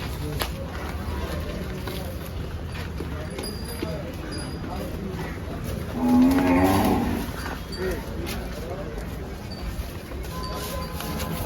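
A large Gir cow gives one loud, drawn-out moo midway through, over a busy background of voices and noise at a cattle market in Dhule.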